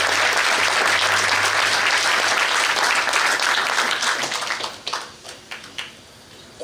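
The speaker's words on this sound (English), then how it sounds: "every time we say that, we might as well clap" A large audience claps loudly at an event honoring Art Laboe, a sustained wash of applause that fades into a few scattered claps near the end.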